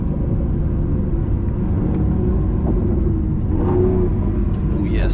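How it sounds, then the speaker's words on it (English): Lamborghini Aventador SVJ V12 engine, 770 hp, heard from inside the car: a loud, continuous deep rumble and drone that swells slightly as the revs build, steady throughout with no pauses. "Oh yes, there the V12 comes to life."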